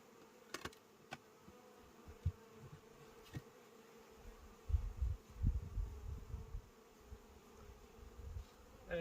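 Low insect buzzing from many honey bees around a crowded hive, steady and fairly faint, growing denser and louder midway with a few brief sharper sounds.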